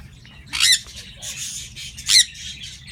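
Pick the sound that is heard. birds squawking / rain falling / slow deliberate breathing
birds squawking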